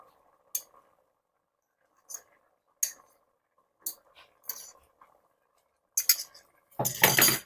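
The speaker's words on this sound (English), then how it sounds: "So we just stir a little bit and allow this yam to melt." A spoon stirs yam thickener into Ofe Nsala soup in a pot, giving sparse, separate clinks and scrapes against the metal that are spaced apart and end in a louder clatter.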